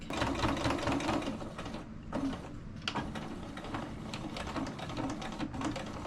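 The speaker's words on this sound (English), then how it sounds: "we're going to sew straight across there. You'll want to go back and forth a couple times because this is very thick fabric." Sewing machine running straight stitches across thick legging fabric, a close rapid mechanical whirr in short bursts with brief pauses between runs.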